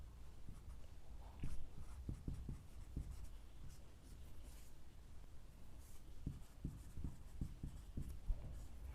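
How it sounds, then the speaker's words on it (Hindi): Chalk or marker writing on a board during a Class-12 physics lesson on electric dipole moment, with steady scratchy strokes and taps in quick irregular bursts, close and moderately faint, no talking. "यहाँ से मैं शुरू करता हूँ लिखना"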